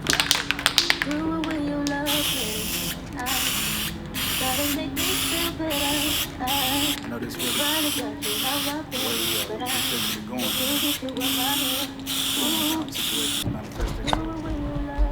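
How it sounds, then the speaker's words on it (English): Matte black spray paint hisses from a can in a long run of short, rhythmic bursts with brief gaps between them. A voice talks underneath the spraying. "you paint, you spray paint, work really well. Just normal matte black and the clear coat"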